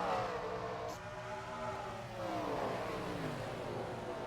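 Race cars on the Richmond oval accelerate together at a green-flag restart, a continuous layered engine roar with rising pitch sweeps as the pack gets up to speed.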